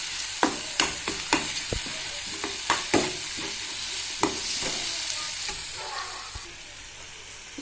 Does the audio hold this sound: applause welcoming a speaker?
no